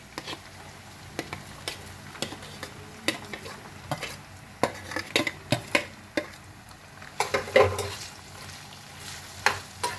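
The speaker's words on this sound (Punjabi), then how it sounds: "ਹੁਣ ਆਪਾਂ ਇਹਦੇ ਵਿੱਚ ਆ ਪਿਆਜ਼ ਤੇ ਹਰੀ ਮਿਰਚ ਪਾ ਦੇਵਾਂਗੇ" Onions and green chillies cook in a pan with bitter gourd peel for a stuffed karela dish, giving a soft sizzle broken by frequent close clicks and scrapes of a stirring spoon against the pan, with no talking.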